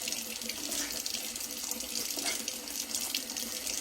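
Hot water runs steadily from a kitchen tap while cornbread batter is mixed from cornmeal, a continuous close, even hiss of flow with no pauses or talking.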